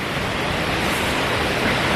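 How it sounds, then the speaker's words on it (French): A waterfall roars close by, a dense, steady broadband rush of falling water filling the whole moment with no pauses or voices. "rien qu'une cascade"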